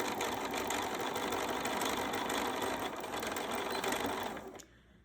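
A sewing machine stitches fabric for quilt half-square triangles. It runs as a loud, close, continuous whir with rapid needle chatter for about four and a half seconds, then stops abruptly.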